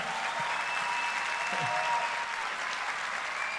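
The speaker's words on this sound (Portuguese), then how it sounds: "Salva de palmas, Murilo Gun." Crowd applause after a talk on a campus stage, a continuous, even roar of many hands clapping at moderate distance, with a few faint voices underneath.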